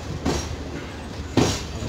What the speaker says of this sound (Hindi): ये ट्रेन खड़ी है गुजरात संपर्क क्रांति एक्सप्रेस